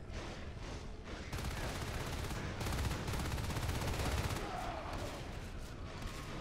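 Rifle fire in a Natural Selection 2 match, with rapid bursts of shots crackling almost continuously for several seconds at a fairly loud level amid other game noise.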